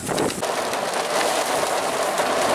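Steady, dense heavy rain pouring down during a thunderstorm, a constant broadband hiss with scattered patters and splashes throughout, loud and close.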